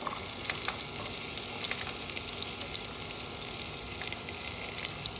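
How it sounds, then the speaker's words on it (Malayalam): Onions fry in hot coconut oil in a pan, a steady dense sizzle with faint crackles and pops, moderately quiet and without talk. "ഇനി നമുക്കിത് നല്ല ചൂടായിട്ട് ഉള്ളി ഇട്ടെടുക്കാം"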